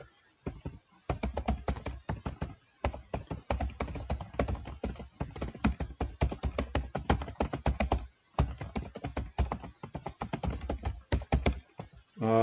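Close typing on a computer keyboard while entering book details into a Microsoft Excel spreadsheet, with rapid bursts of crisp keystrokes broken by short pauses, continuing throughout.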